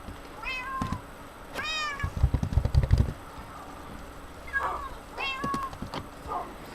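A few short, high meows from ocelots in a video game come in quick bursts, interrupted by a brief rumbling engine-like sound in the middle.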